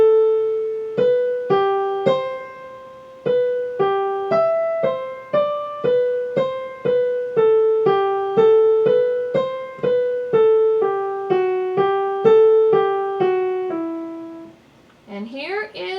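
Keyboard playing the third line of Bach's Musette from Alfred Essential Keyboard Repertoire, opening with a chord, then a steady, even stream of single notes in clear rhythm, played alone for about fourteen seconds before a brief noisy ending.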